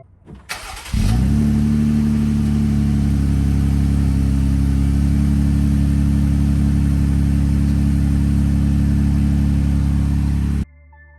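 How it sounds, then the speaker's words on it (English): A Jeep Gladiator fitted with an AFE Power Rock Basher exhaust fires up with a short crank, then settles into a loud, steady, deep idle growl that runs for about ten seconds before cutting off. "I found the Rock Basher exhaust system from AFE Power. I'll try to let you hear how it sounds."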